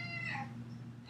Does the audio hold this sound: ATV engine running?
no